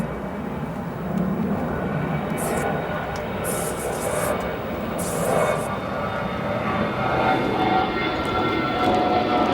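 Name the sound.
SAS Airbus A330-300 departing O'Hare Airport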